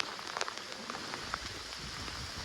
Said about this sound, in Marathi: पाऊस खूप मोठ्या प्रमाणात येत आहे